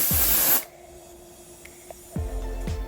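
Moroccanoil dry shampoo sprayed onto hair: two close, loud aerosol hisses, one short burst at the start and another near the end, with quiet between.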